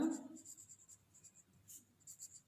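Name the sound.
writing an answer during a lesson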